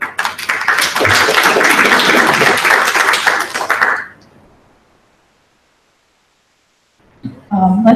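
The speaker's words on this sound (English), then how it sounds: "Let's give our 3 Sea Grant graduate trainees a round of applause" A theater audience at a Hawaii research outreach talk gives a dense, loud round of applause for three Sea Grant graduate trainees. It lasts about four seconds and stops abruptly, followed by silence and then a speaking voice.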